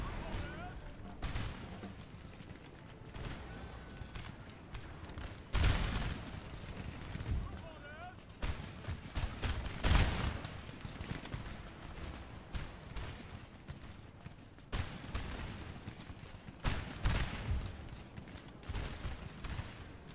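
Musket volleys crackle through a Napoleonic battle in Napoleon Total War, with dense rolling gunfire and booming bursts building and fading over the whole stretch, someone talking over the din throughout.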